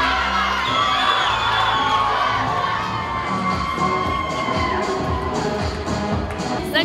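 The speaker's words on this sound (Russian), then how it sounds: "Болельщики поддерживали бурными аплодисментами своих фаворитов." A packed hall at a student Mister pageant at a university branch erupts in loud, sustained cheering and whoops from young supporters, mixed with clapping and shouting throughout.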